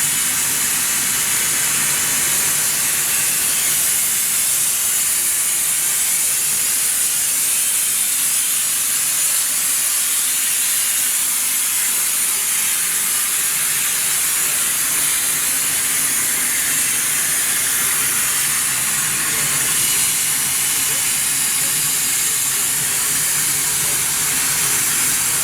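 A Grand Canyon Railway 2-8-2 steam locomotive on its first run after a 2021 refit vents steam in a loud, continuous, close hiss that holds steady throughout with no break.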